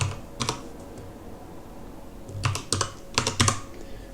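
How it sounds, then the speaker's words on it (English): Computer keyboard typing comes in quick clustered bursts of keystrokes separated by short pauses, fairly quiet and close, with no voices. "we'll go ahead and type it again"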